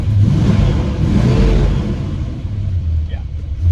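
A rebuilt 1961 Studebaker Hawk sets off with a deep, close engine rumble that swells as the throttle opens. Someone talks over it.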